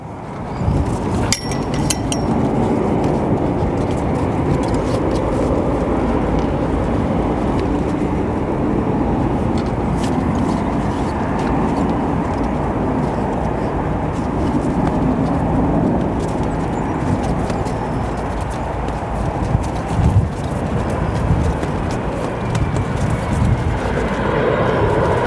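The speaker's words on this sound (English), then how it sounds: "Oh, we have Etihad, our A350-1000, departing at 9 Center now" Etihad Airbus A350-1000 jet departing O'Hare, a loud sustained engine roar with wind-buffeted rumble holding steady for the whole stretch, broken by a few faint clicks and taps, with no voices.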